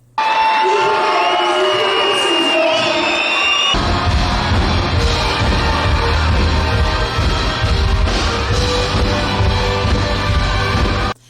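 A large New Year concert crowd in Hatay cheers, yells and whoops loudly, with dense continuous noise building after a sung or music-filled opening and holding steady to the end.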